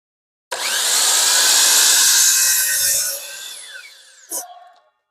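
Power drill pre-drilling wooden trellis cross pieces: one loud, close grinding whir of the bit biting into wood for about two and a half seconds, tapering off, then a short sharp knock as it pulls free.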